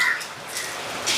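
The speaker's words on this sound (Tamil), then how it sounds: "நான் காகம் வராதுன்னு நினச்சேன் தெரியுமா இந்த மழைக்கு. ஆனால் வந்திருக்குது பாருங்க எத்தினேண்டு." Crows cawing outdoors in heavy rain, a few harsh calls rising over the steady hiss of rainfall at moderate distance.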